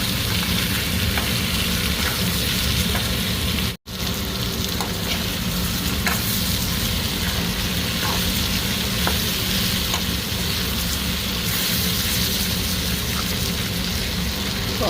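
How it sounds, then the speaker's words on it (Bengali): Ivy gourd (kundru) with potato fries in a pan with salt and turmeric, making a loud, dense, continuous sizzle broken by occasional stirring clicks and one brief dropout. "লবণ, হলুদ দিয়ে কুঁদরিটা ভালো করে ভেজে নেব"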